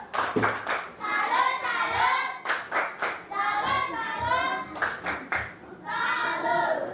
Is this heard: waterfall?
no